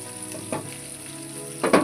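Dried fish fries in hot oil in a pan in a village kitchen, a steady close sizzle with brief louder crackles as the fish is stirred.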